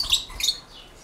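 Small birds in a large aviary of cockatiels and parakeets, about two hundred in all, give two quick high chirps near the start, then fade to faint background.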